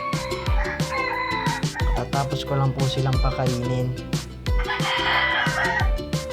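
Chickens cluck close by, with repeated crowing cutting in over the clucks, while a person speaks briefly over them.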